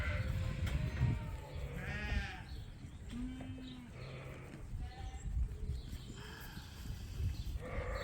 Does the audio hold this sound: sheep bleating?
yes